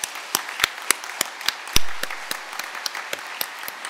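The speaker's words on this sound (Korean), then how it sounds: "큰 박수로 격려하시겠습니다." Congregation applauding during a Korean church Sunday service, a mix of sharp individual claps alongside a steady patter of scattered clapping, moderately loud and close, with no one speaking over it.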